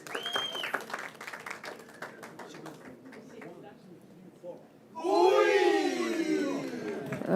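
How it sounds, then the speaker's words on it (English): At a cultural diplomacy arts event, people talk before a crowd bursts into loud cheering, whooping and applause for the dancers, which carries to the end. "Final applause."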